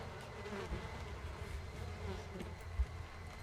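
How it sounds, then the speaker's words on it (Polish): Flies buzzing steadily in the horror video game Outlast 2, a low droning hum that carries through the whole stretch, with a faint thump near the end and no talking. "Nic jeszcze mnie nie straszy, tylko słyszę te głupie muchy."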